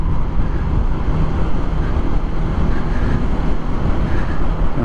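Wind rushes through a road tunnel a few hundred metres long, open at both ends, on the route from Ambala to Sissu. It makes a loud, steady, broadband roar with no pauses and no voices.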